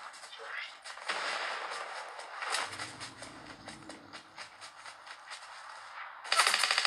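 Gunfire in the Fortnite video game, played on a Samsung Galaxy S23 Ultra phone: rapid bursts of shots with sharp repeated cracks through the clip, mixed with game sound effects and a louder burst near the end.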